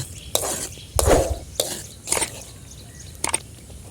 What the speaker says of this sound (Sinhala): ගින්දර අඩු කරන් ටික වෙලාවක් හැඳිගා ගන්න